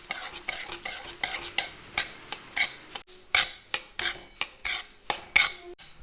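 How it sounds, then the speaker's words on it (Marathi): Semolina roasting in ghee in a kadai over medium heat is stirred briskly, giving a quick series of rhythmic scraping strokes close up, with no talking. "कढई तापायला ठेवली आहे त्यात आपण अर्धी वाटी एवढं तूप टाकून घ्यायचं एवढा रवा टाकायचा मीडियम गॅसवर आपण हे भाजून घेऊ"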